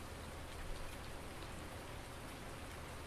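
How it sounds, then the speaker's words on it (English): Steady rain hissing and pattering over farmland in Farming Simulator 19 on PS4, a broad even wash of falling drops that stays constant throughout without any voices. "Our second rain of the season."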